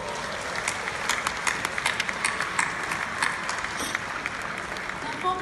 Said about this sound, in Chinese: 让我们以热烈的掌声向马来西亚中华总商会表示热烈的祝贺。